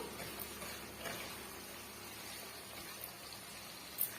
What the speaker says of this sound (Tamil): இதை வந்து கொதிக்க விட்டுக்கலாம்.